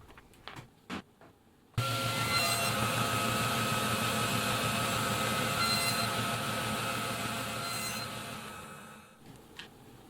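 A saw cuts through a block of cedar fence picket pieces held together with tape, giving a loud, continuous whining cut of about seven seconds, with short knocks before and after.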